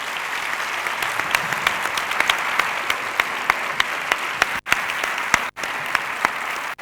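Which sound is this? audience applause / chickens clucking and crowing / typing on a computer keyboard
audience applause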